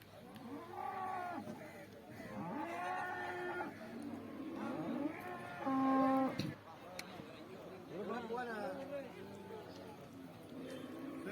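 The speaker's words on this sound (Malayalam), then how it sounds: "ഇന്നെല്ലാം വലിയ പോത്തിൻ്റെ എരുമയുടെ കച്ചവടമാണ് ഇന്ന് ചന്തയിൽ നടന്നത്" Buffaloes and cattle at a busy livestock market during hot weather let out several drawn-out, moderately loud calls across the span, mixed with crowd voices and general market bustle.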